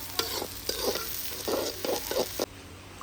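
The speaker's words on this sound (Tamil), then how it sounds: "அந்த வெண்டைக்காய் சேர்ந்து வதங்க வேண்டியது தான்." Okra and onions sauté in a pan, a soft steady sizzle broken by several scraping stirs of a spoon, close and quiet.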